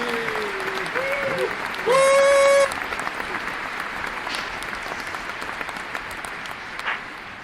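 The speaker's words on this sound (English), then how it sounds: "please give a warm round of applause for the crew" A theatre audience claps steadily for the crew of The Taming of the Shrew, a dense wash of applause broken by a few sharp whistles early on before settling into an even, sustained round.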